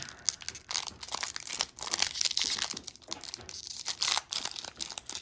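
Close, continuous crinkling and tearing of a thin foil wrapper on a 1993 SkyBox Super Mario Bros. Movie trading card pack, rustling unevenly for several seconds with no talking.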